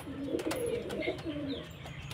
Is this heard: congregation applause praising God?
no